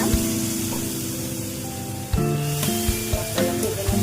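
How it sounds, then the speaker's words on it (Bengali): Spice paste mixed with yogurt frying in oil over a medium flame for Bengali doi katla, a continuous close sizzle with a few sharp spatula scrapes and clatters in the second half. "মশলাটা ভেজে নেব।"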